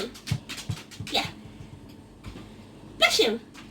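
Pet dog Pickle gives a few short, sharp sneezes up close. Light thumps and movement noise sit between them, and the loudest sneeze comes near the end.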